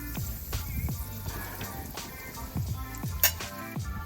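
Onions tossed onto a Blackstone griddle with melted butter, giving close metallic scraping and clinking of a spatula on the flat-top with a soft sizzle underneath, busy and continuous.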